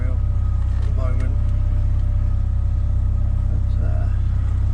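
A Shetland 4+2 boat's engine running steadily at low revs, with a constant deep drone and vibration throughout while someone talks over it.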